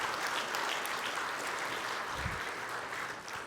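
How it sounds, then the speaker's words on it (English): Steady applause from a conference audience at an opening plenary session, a sustained wash of clapping at moderate volume for a few seconds. "please give a round of applause to our planning committee as well"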